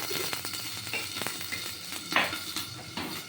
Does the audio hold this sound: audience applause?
no